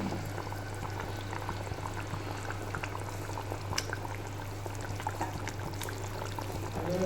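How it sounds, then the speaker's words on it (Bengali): A pan of bhetki fish curry bubbles steadily at a soft simmer, with small pops and a constant low hum behind it. "ঝোলটা ফুটছে"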